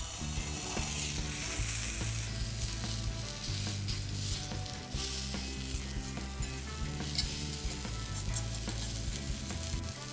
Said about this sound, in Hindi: तो लहसुन और टमाटर भून चुके हैं,